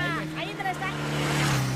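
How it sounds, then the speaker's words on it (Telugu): A motorcycle engine in a Telangana comedy film scene gives a steady, fairly loud low drone throughout, with voices faintly mixed in. "ఇప్పుడు మనం ఎక్కొచ్చిన మోటార్ సైకిల్"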